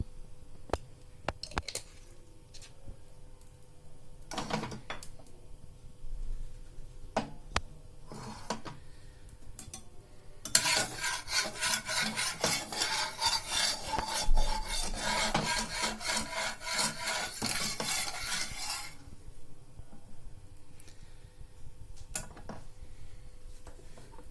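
Eggs whisked with salt and pepper in a bowl for a cheese omelette, scattered knocks and taps, then a sustained burst of fast rhythmic beating close by before it slows and stops.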